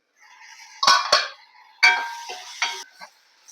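Tomatoes and onions sautéing in a pan for prawn curry: a few ringing metallic scrapes of a spatula against the pan over a faint sizzle, close and otherwise quiet.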